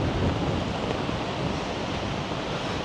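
Strong ocean surf whipped by gusty wind at a seaside festival, a steady loud roar of breaking waves mixed with wind buffeting the microphone throughout, no voices.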